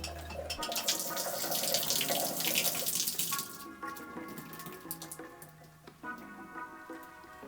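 Water pours from a freshly cut PEX supply line under a bathroom floor in a 125-year-old house, a steady broadband splashing and gushing close by that eases off partway through.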